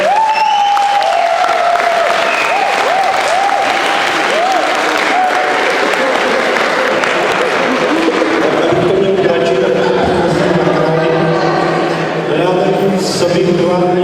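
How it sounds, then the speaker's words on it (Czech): Audience applause at a school Christmas show, a sustained wash of clapping with a few cheers, while a speaker's voice and some music-like tones run over it. "Potlesk!"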